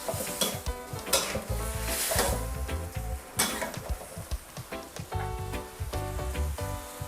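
Shrimp frying with garlic in a pan for a Thai garlic seafood dish, a steady loud sizzle with frequent scraping and clinking stirs of a utensil against the pan, close and continuous.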